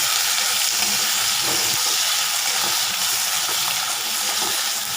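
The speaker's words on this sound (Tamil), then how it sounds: "தக்காளி போட்டு வதக்கணும் ஓகேங்களா" Tomatoes sautéing in a hot pan after onions, a loud, steady crackling sizzle with faint stirring taps underneath, close up and without voices.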